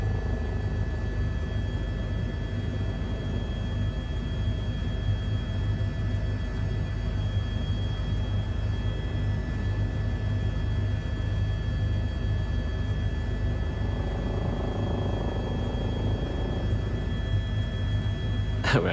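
Steady loud rotor and engine drone from inside an aircraft flying over a helipad it had landed on earlier, a continuous roar with no break and no talk.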